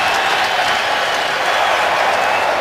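Patriots fans in a football stadium cheer and applaud on third down during a 2012 Bills at Patriots game, a loud, continuous roar of the crowd with clapping mixed in.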